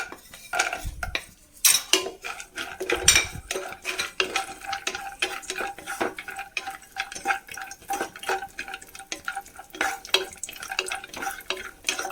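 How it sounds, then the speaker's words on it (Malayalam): Cashews and raisins frying in ghee in a pan for a date halwa, heard as steady clinking and scraping of a utensil against the pan with faint sizzling throughout, close and moderately loud, no talking. "നമുക്ക് പാൻ വെച്ചിട്ട് കുറച്ച് നെയ്യ് ഒഴിച്ചിട്ട് ചണ്ടിപ്പരിപ്പ് മുന്തിരി വറുത്തെടുക്കാം"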